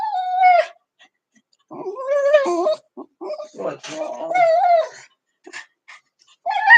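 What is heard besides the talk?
dog whimpering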